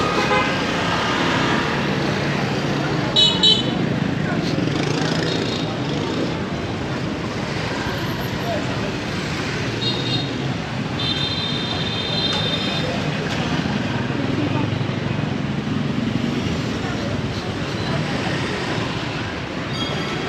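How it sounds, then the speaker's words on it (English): Busy street traffic fills Hanoi's Old Quarter with a steady roar of engines, and scattered short horn toots stand out now and then. "it's a bit of a free-for-all with the traffic"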